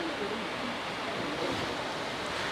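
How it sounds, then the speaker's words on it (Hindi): Staubbach Falls in Lauterbrunnen pours down as a steady broadband roar of falling water, constant and fairly loud throughout with no break, mixed with some wind. "ये ऊपर से झरना गिर रहा है"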